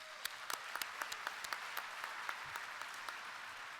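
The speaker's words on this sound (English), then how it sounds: "Give yourselves a round of applause." A convention audience at the International Moose Convention opening session claps, a faint, fairly distant scattering of handclaps that stays steady, with no voices over it.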